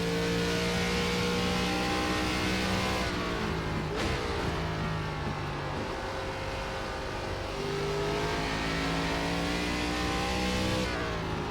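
ARCA race car engine lapping Watkins Glen in iRacing, droning steadily and loudly with a clear pitch drop around a downshift before the revs climb again, alone without talk.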